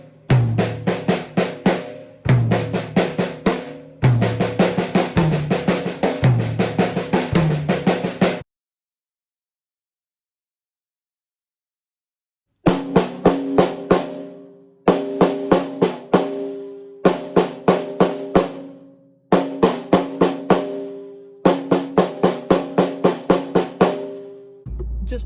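Six-stroke rolls played on drum toms, with repeated bursts of rapid strokes and accented hits, close and loud, broken by a long silent gap in the middle before the pattern resumes.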